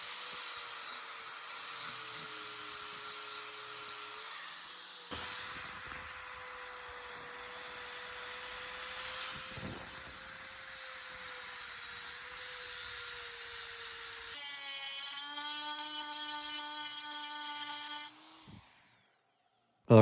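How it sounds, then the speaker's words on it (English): Power-tool grinding and sanding on an H22 intake manifold, a steady whining motor tone running for long stretches, pausing briefly and shifting pitch, then spinning down near the end. "after a lot of grinding and sanding, we have got this thing looking pretty good"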